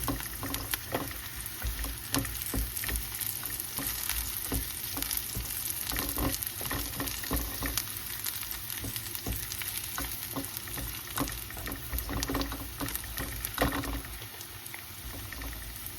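Garlic frying for squid adobo, a steady close sizzle with scattered crackles and occasional stirring clatter throughout.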